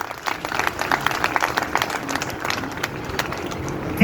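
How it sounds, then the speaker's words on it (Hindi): A crowd claps steadily and densely throughout, a continuous patter of many hands without pause. "इनके लिए जोरदार तालियां बजाइए।"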